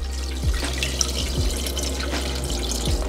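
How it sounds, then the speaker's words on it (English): Tap water runs steadily into a pot of dried chili pods, a continuous close splashing and trickling with no voices. "we're gonna go ahead and just fill this up with a little bit of water just to cover them"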